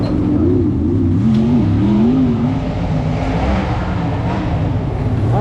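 Race engine of a sprint car, number 15, at a USAC sprint race at Burton, droning steadily and loudly through a lap with wavering revs, no voices.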